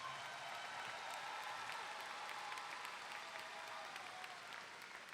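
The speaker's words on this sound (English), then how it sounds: "Let's give them a round of applause." Steady, dense applause from a crowd at a 2021 high school graduation ceremony for the graduating class, continuous and fairly distant, with no voices rising above it.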